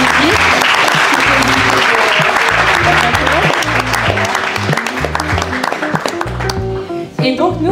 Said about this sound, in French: je propose qu'on applaudisse chaleureusement Monsieur le Ministre